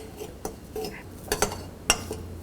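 A spoon clinks against a bowl as a quail masala marinade with turmeric, salt and lemon juice is mixed. Several distinct knocks and scrapes sound up close against a quiet background.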